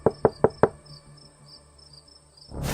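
Four sharp, evenly spaced knocks on a door ring out close by, then stop, leaving a faint hum of insects and room noise until another sound swells at the end.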